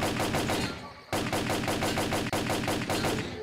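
Rapid automatic gunfire from the shooter game S.T.A.L.K.E.R.: Clear Sky rattles in two long bursts with a brief gap between them, loud and close.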